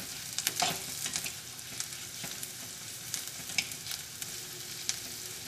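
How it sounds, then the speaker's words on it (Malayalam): Turmeric powder is stirred into a frying pan while making Kerala egg curry; a steady sizzle runs under close scraping and stirring clicks from a utensil, with no talking. "ഇനി നമുക്കിതിലേക്ക് മഞ്ഞൾപ്പൊടി ചേർക്കാം നമുക്കിതൊന്ന് ഇളക്കി കൊടുത്തിട്ട്"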